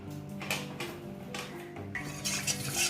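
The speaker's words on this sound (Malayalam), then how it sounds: "നന്നായിട്ട് ഇളക്കി കൊടുക്കുക. കൈയെടുക്കാതെ ഇളക്കി കൊടുക്കണം കേട്ടോ" A ragi and water mixture is stirred continuously in a pot as it thickens, with a spoon scraping and lightly knocking against the pot in several soft strokes, close and faint, with no speech.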